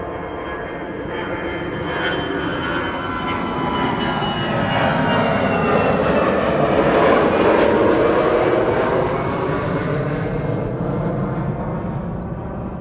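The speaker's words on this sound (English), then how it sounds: "EasyJet A320 to Gatwick." An easyJet Airbus A320 jet departs Amsterdam Schiphol airport on a sunny winter day, its engines a loud, sustained roar that swells gradually and holds across the whole stretch, with no talking.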